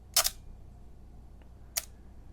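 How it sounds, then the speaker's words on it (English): A film camera's shutter fires twice, each a crisp, sharp mechanical click, close and isolated in a quiet room, about a second and a half apart. "So now if we take a listen to the shutter again,"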